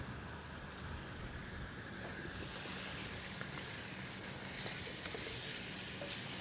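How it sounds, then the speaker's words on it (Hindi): Chicken fries in a pan with a dense, steady hiss that holds evenly from start to finish, close and fairly quiet, with faint crackles and no talking. "और इस वक्त जो है चिकन जो है हम फ्राई कर रहे हैं।"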